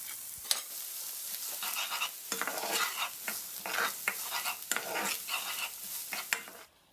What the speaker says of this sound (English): Pop the onions in the pan and give it a good sweat